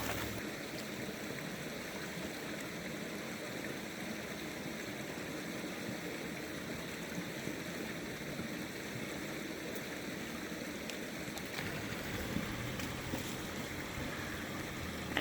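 Creek water flows and splashes steadily nearby during gold panning at an exposed bedrock crevice, a soft continuous broadband rush with faint occasional clinks, fairly quiet and with no talk.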